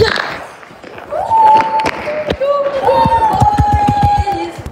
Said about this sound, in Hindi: तो गाइस अभी भी पटाखा बज रहा है